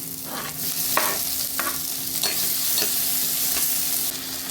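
Onions and tomatoes sautéing for a red soya bean gravy, steady close sizzling broken by several sharp spatula scrapes and stirs, no voices.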